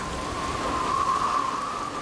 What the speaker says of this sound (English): The rain was pouring down